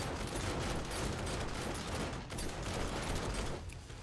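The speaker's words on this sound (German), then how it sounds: "Oh, meine Mine ist explodiert." Dense, continuous rapid gunfire with booming blasts and a landmine explosion in the video game 7 Days to Die, loud and sustained throughout, briefly dipping midway.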